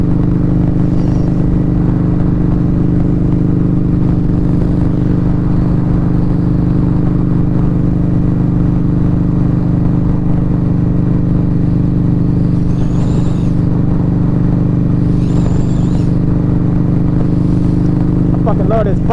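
A Victory Highball motorcycle rides along a street, its engine droning steadily and loudly up close through the whole stretch, with wind rush and brief passing sounds layered on top.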